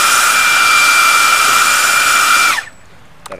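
Electric ducted fan spun up at throttle on a balancing bench, a loud steady high-pitched whine with a strong tonal hum that holds for over two seconds, then cuts off abruptly and spins down to near silence.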